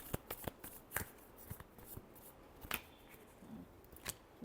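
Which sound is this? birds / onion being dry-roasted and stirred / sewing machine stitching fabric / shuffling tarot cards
shuffling tarot cards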